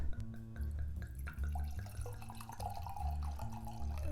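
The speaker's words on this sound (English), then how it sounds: "I will pour the wine to the glass" Johanniter pet-nat sparkling wine from Jura Winery, 2017, is poured into a glass, a quiet gurgling liquid stream with small splashes and bubbling, close and faint with no talk.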